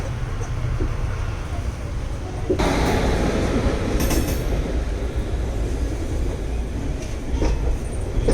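A passenger train arriving at Secunderabad station at night rumbles steadily with a broad roar, growing louder partway through, with brief metallic squeals and clatter as it moves along the track.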